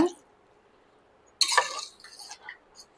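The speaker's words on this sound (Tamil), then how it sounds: "ஒரு கிளாஸ் அரிசிக்கு 2 கிளாஸ் தண்ணி சேர்த்துக்கலாங்க" Water poured into a pot for cooking rice in a home kitchen, a short sloshing splash after a quiet pause, then a few trailing drips and clinks.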